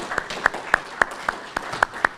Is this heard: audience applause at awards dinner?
yes